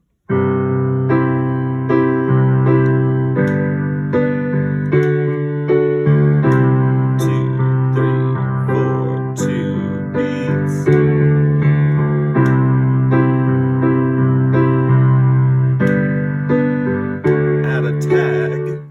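Full piano chords from the chorus of a song are struck with two hands in a steady rhythmic pattern with bass notes beneath, repeating evenly for the whole stretch, clear and close with no talking.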